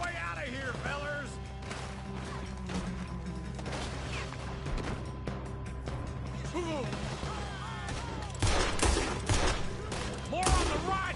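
Gunfire in a Red Dead Redemption 2 shootout, scattered shots and mechanical clatter over a busy game soundscape, growing louder with heavier bursts toward the end, while voices talk throughout.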